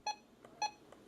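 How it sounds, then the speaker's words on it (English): Button beeps from a RadioShack 262 radio: two short, sharp electronic tones, each followed by a faint echo-like blip, clear and close over low background hiss. "let's start with the button beeps, the most obvious feature to start with."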